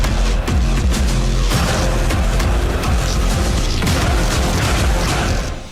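Indian Army artillery cannon fire at the border: a dense, continuous roar of booming blasts and crackling bursts, loud and sustained throughout with no talk.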